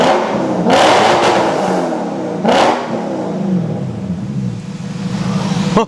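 A powerful V8 engine swapped into an Audi revs hard twice in quick bursts, roaring up and settling into a deep idle rumble, loud and close.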